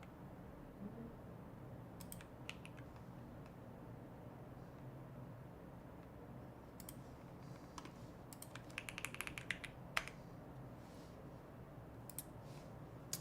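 Typing on a Bubble 75 keyboard fitted with Aqua King switches, quiet scattered keystrokes with a few quick bursts of clicks over a steady low room hum, no talking.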